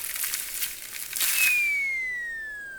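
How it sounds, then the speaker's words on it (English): Crackly rustling in tree branches in an evening wood, a brief crinkling burst that swells and then gives way to a thin whistling tone fading out. "he heard a rustling in the branches"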